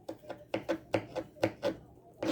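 Tomatoes chopped by hand with a knife on a cutting board for pico de gallo, about ten steady, crisp thuds in even rhythm, close and clear.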